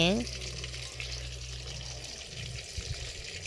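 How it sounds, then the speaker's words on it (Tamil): Tuna fries in a pan over a wood-fired stove, a soft, continuous sizzle and crackle heard faintly at a distance while people talk quietly nearby. "மீன் பொறிக்கிறப்ப வந்து விறகடுப்பில் தான் பொறிப்போங்க"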